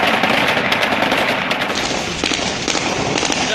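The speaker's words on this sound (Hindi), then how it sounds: "एयरपोर्ट के अंदर पहुंचकर की ताबड़तोड़ फायरिंग।" Dense automatic gunfire rattles without pause as Taliban fighters fire celebratory rounds into the air at Kabul airport at night, with sustained rapid bursts overlapping in a loud continuous barrage.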